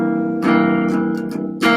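A guitar strums chords on the bottom four strings, a few quick strums with bright attacks and short sustains in an uneven rhythm, close and fairly loud, no talking.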